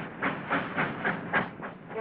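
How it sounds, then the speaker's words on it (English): A Nickel Plate passenger train arriving at Frankfort, Indiana, with a steady rumbling roll and a regular clickety-clack of wheels over rail joints, heard alone with a muffled, band-limited quality. "here comes PB-12 from Peoria, on time, pulling into Frankfort, Indiana a nickel plate main dispatch point"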